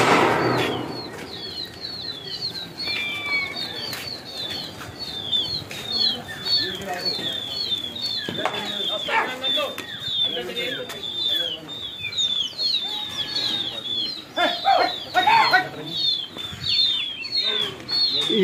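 A flock of racing pigeons flaps and flutters overhead, with wingbeats and scattered chirps ringing out over a noisy outdoor background and some talk.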